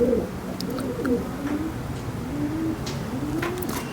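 A pigeon coos steadily in a soft, rolling series of low, close-up calls, with a few faint chirps from other birds in the background.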